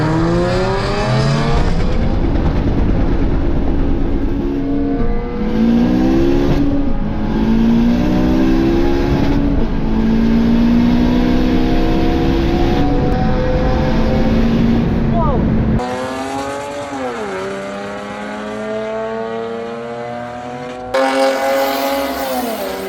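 Modified 500 bhp Honda Civic FN2 sleeper revving hard at full boost with tires spinning and smoking, engine pitch sweeping up and down repeatedly, loud and close, with people talking over it.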